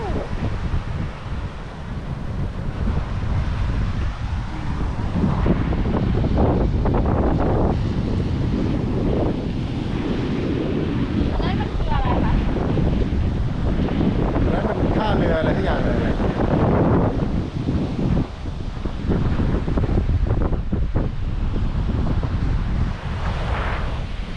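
Strong wind blowing at a beach, buffeting the microphone with a constant loud rumble and roar, while people talk underneath it.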